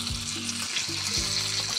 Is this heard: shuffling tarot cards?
no